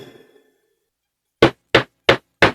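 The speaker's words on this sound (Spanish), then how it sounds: "Alguien acababa de golpear la puerta de la entrada." Four sharp, evenly spaced knocks on a front door, loud and close, following a brief trailing voice and then silence.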